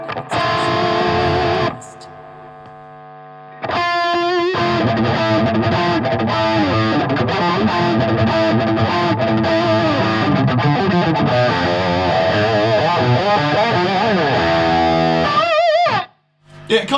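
Heavily distorted electric guitar through an effects unit, chasing a high-gain tone; dense, loud sustained chords and riffing fill most of the stretch, with a brief quieter gap early on and a sudden cut near the end.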